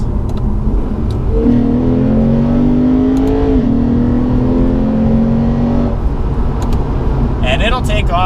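A Lexus RC F with Brembo brakes revs and accelerates through downshifts, its engine note climbing in stepped rises from inside the cabin while someone talks over it.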